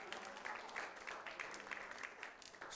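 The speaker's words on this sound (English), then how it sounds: "Clap your hands and give God some praise." Church congregation clapping hands in praise during a sermon, a faint, steady patter of many hands with a lively rhythm, heard at a distance.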